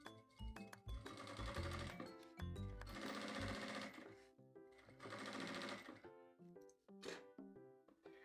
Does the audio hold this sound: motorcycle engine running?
no